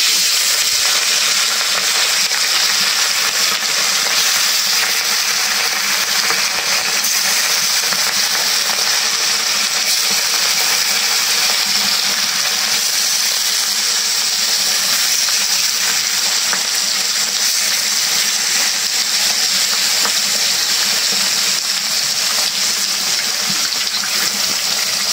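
Mena and oil-spitting fish like pangas frying in hot oil, a loud, steady, dense sizzle and crackle that goes on without a break.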